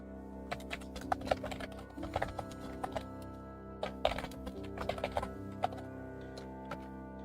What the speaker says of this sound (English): my fingers push down on the right side of the keyboard quicker than they do on the left side of the keyboard